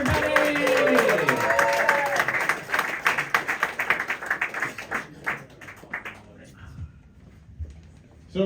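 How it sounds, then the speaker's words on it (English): Comedy club audience at the SoHo Playhouse clapping as the next comic takes the stage, a loud dense burst that thins into scattered claps and fades out, with a voice speaking over the start. "Start clapping for the next comic, guys."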